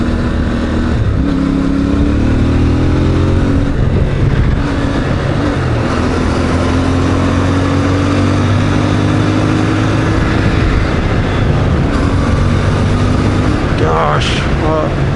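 A CFMOTO 450 MT adventure motorcycle on a ride, its engine droning steadily up close with rising and falling rev pitches as gears change, under heavy wind rush, with a rider talking over it.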